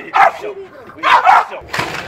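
A dog barks and yips in short bursts during attack training, with a trainer speaking French close by between and over the barks.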